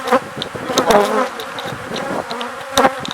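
Bees buzz loudly and close by, a dense droning hum with individual insects swelling and fading.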